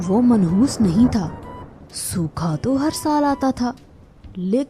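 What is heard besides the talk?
No everyday noises stand out.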